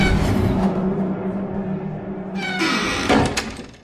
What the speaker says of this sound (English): You can open the TARDIS doors with a snap of your fingers.